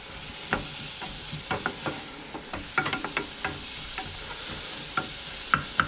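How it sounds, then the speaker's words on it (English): Diced onions and minced garlic sizzle in a pan as a utensil stirs them. Sharp clicks and scrapes come at irregular intervals over a soft, constant frying hiss, close and unaccompanied. "Start stirring that around"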